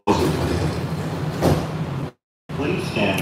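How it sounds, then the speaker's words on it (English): Airport shuttle train doors sliding shut, a loud rumbling slide lasting about two seconds that cuts off abruptly, then a brief silence before cabin noise resumes. "The doors are now closing."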